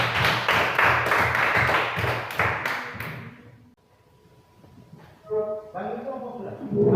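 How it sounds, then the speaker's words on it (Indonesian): Students in a physical education class clap their hands in a quick rhythmic burst for about three seconds. The clapping then drops to quiet murmuring, and voices and chatter come up afterward. "tepuk tangan dong."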